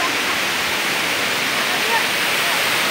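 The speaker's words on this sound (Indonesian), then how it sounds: "Bagaimanakah keseruan ataupun uniknya Air Terjun Rason?" Rason waterfall, also called Resun, at Daik on Lingga, pours in a steady, dense roar of rushing water that fills the whole clip at an even, close loudness.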